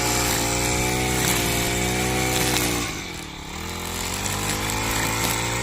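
A petrol brush cutter cuts grass during a farm equipment demonstration in Paithan. Its small two-stroke engine whines loud and close and stays steady, except for a brief dip in revs midway.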